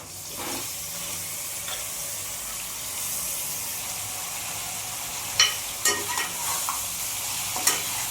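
Mutton head meat fries in oil with a steady hiss, joined later by a few sharp scraping stirs of a utensil against the pan; no talking.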